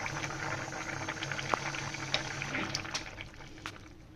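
Pumpkin and rohu fish belly and tail curry boiling hard in a pot, a steady dense bubbling and gurgling with occasional louder pops, close and continuous.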